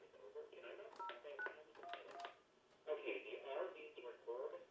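An old push-button telephone dials touch-tone digits, giving quick bursts of beeps in two clusters separated by a short pause, close and clear with no voices.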